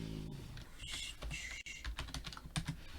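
Rapid, uneven typing of code on a computer keyboard, a close, steady flurry of key clacks with brief pauses and a few heavier keystrokes, no talking.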